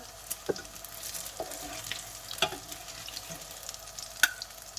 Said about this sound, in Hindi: सारे इसी तरह फ्राई करूँगी और झटपट फ्राई हो जाते हैं